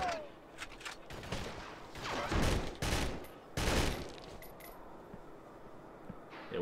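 Rapid gunfire bursts from shooting an enemy in the video game Urban Chaos: Riot Response, several loud volleys clustered in the middle over quieter game noise.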